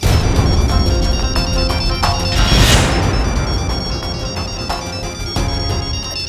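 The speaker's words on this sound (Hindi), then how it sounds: "बुलबुल क्यों फोन कर रहे हैं?" A loud electronic ringtone plays repeatedly with bright tonal pulses, accompanied by crashing, booming effects in the background.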